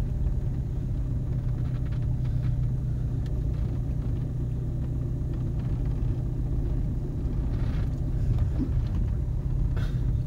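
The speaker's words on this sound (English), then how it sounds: "Let's drive out from here and then you'll see how bumpy a ride this is" A camper van rolls along a bumpy forest track, its engine a steady low rumble with faint rattles and knocks from the cabin over the whole stretch, close and continuous without speech.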